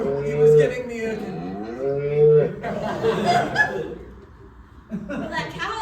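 A cow moos in long, drawn-out lowing calls, loud and close, in a comedy sketch set in a farm town, with people talking and chuckling between and after the calls.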